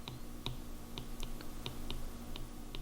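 Sparse keystrokes on a computer keyboard, about a dozen separate clicks at an uneven, unhurried pace over a faint steady hum, with no talking.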